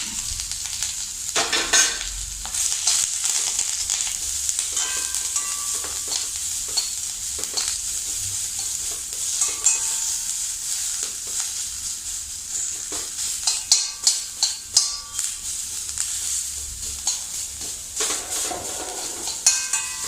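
Steady sizzle of chopped onion sautéing in a hot pan, with intermittent scraping and stirring clatter from a utensil throughout.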